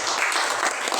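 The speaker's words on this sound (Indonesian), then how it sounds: "tepuk tangan ya" Classroom applause from a group of students after a geometry group presentation, a dense steady patter of many hands clapping at once, fairly close and even in level throughout.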